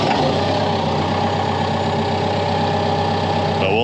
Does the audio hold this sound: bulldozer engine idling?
yes